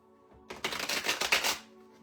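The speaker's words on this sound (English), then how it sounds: "So I'm actually going to give this a little shuffle here." A deck of tarot cards is given a brief shuffle, a quick close riffle of crisp flicking card edges lasting about a second against a quiet room hum.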